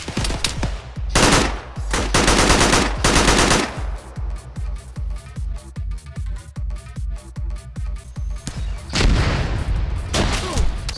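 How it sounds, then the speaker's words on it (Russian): Loud, dense video-game gunfire: rapid machine-gun bursts and single shots with booming blasts, continuous for the whole stretch, near and heavy with no voices over it. "По нам уже стреляют."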